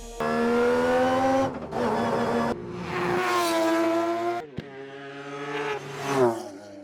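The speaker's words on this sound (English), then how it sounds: "We're putting in a 3-rotor peripheral ported engine because we wanted it to be exciting." A Mazda RX-7 with a three-rotor peripheral-ported 20B rotary engine revs hard in loud, close, buzzing bursts that rise and fall repeatedly, with a sharp crack between pulls.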